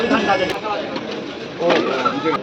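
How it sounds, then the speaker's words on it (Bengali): Pigeons coo in low, rolling calls among the stalls of a bird market on Galiff Street, heard steadily under nearby talk and general market bustle. "এই যে দেখো সেইগুলো পায়রা"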